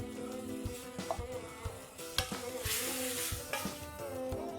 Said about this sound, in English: Mix this well, increase the flame and allow this to simmer and cook till it's completely dried off